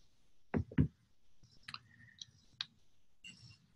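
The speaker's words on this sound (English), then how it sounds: "while I'm clicking some buttons" Buttons being clicked on an iPad: a few sharp, close clicks and taps in quick succession, then sparser light clicks over a quiet background.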